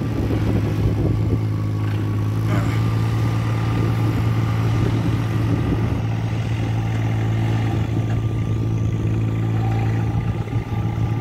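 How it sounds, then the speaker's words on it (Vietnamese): Tractor engine arriving on a rural road near field tilling with a tracked tiller, a steady, loud diesel drone with a deep hum and clattering, holding close and constant throughout. "hồi nãy nghe máy cày á, máy cày đã đến các bạn"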